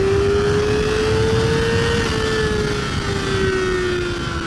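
2023 Kawasaki ZX4RR motorcycle engine riding in traffic, a loud, steady high-pitched whine that climbs slightly then eases, with wind rush throughout.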